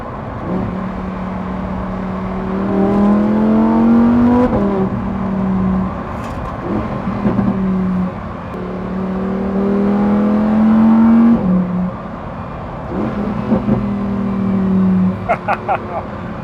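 A Lamborghini Huracan STO with a naturally aspirated 5.2-litre V10 revs and accelerates through rising gears, loud and near, with brief pauses between pulls and someone talking over parts of it.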